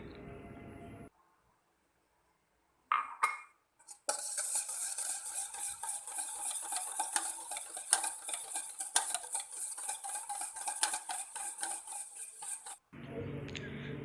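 A whisk or spoon beats eggs, oil and sugar into cake batter in a bowl, giving a rapid continuous scraping clatter that runs for about nine seconds after a few brief knocks.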